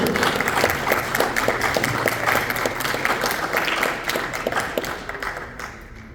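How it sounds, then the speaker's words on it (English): Audience applause at a tech talent contestant event in Warsaw, dense clapping from a crowd that holds steady and then gradually fades toward the end. "let's give a round of applause to Ola."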